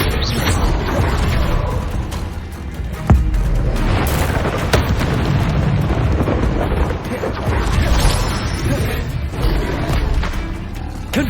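Confringo fire-blast spells in Hogwarts Legacy burst in repeated booming explosions over dense continuous combat noise, with a few sharper hits standing out.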